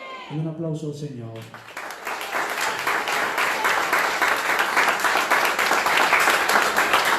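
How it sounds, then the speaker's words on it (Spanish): A church congregation breaks into applause after a man's spoken line, the clapping swelling into a dense, steady roar of many hands that keeps building and fills the hall. "Y un aplauso al Señor."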